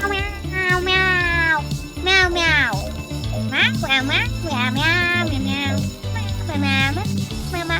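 A voice imitates a cat with a string of playful meows during a Roblox Jailbreak game session. Background music and game sounds run underneath.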